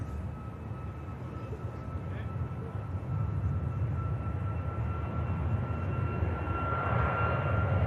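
A Ryanair airliner departs Manchester Airport for Shannon, its engine roar building gradually over several seconds, with a faint steady tone in the background.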